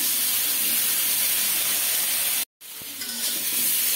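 Eggplant pieces fry in oil with a loud, close, continuous hiss, broken by a brief total silence midway before the sizzle resumes just as strong.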